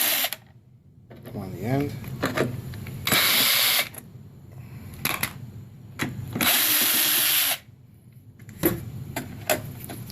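A ratchet works screws loose on a turbo Trans Am heater core, heard as bursts of rapid clicking in short spurts separated by pauses, up close, with someone talking between them.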